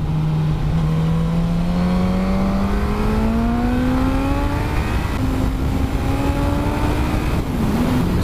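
A 2018 Suzuki GSX-S1000F sports motorcycle accelerating under a light throttle, its engine note rising steadily in pitch through the gears, loud, close and continuous with no talking.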